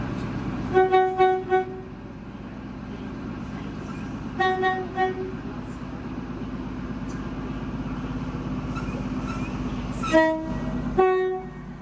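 An NSW TrainLink train rumbles past steadily, sounding several sharp horn toots in short clusters near the start, in the middle and toward the end.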